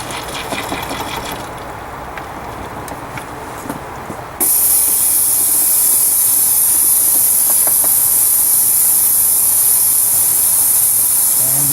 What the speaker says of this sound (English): we'll let the oil continue to suck